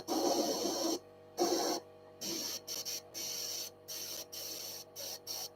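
Airbrush spraying paint to blend a stone effect on a gargoyle model, heard as bursts of steady airy hiss that start and stop several times, close and fairly loud, with no talking.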